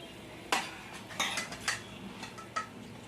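Fried fish lifted out and moved into another cooking vessel: a few sharp, close metallic clinks and scrapes of a utensil against a pan at irregular intervals over a quiet background.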